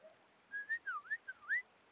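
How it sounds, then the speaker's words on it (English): Someone whistles a short, wavering tune of quick rising and falling notes, clear and fairly close against a quiet, hushed background. "Why are you whistling?"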